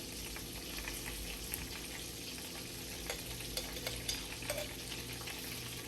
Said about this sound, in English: I'm just gonna go ahead and mix it in